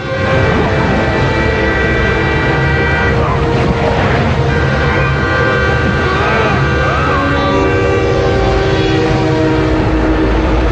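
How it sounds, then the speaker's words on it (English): A train plowing through snow-filled mountain passes in Colorado rumbles steadily past at close range, its horn sounding in long sustained tones over the continuous roar of the wheels. "The chase switches to a train that's plowing through snow-filled passes in Colorado"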